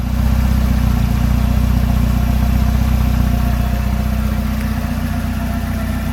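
A Volvo 240 with a custom-built exhaust idles close by, giving a steady, deep, even rumble that stays constant throughout with no voices over it.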